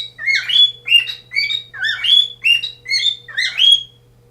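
A pet bird chirps indoors in a steady run of about eight bright, repeated two-note calls, close and clear over a faint low hum.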